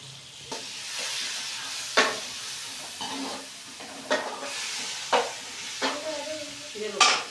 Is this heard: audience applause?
no